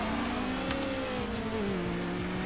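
Car engine in the Need for Speed video game revving hard while gears change, with the pitch climbing, dropping and climbing again over a couple of seconds; loud and steady, with no voices.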